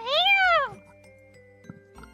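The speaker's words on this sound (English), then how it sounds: "Black cat cries out with joy." A black cat in a visual novel game lets out a single bright meow that rises and falls, followed by quiet background music with a soft chime.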